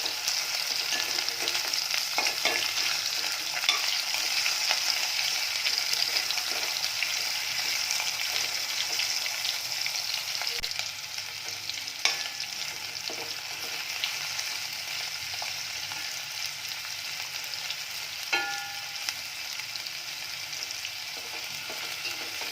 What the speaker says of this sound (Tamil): எண்ணெயிலே கொஞ்ச நேரம் அப்படியே ஃப்ரை ஆகட்டும்.